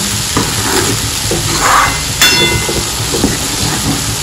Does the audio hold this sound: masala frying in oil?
yes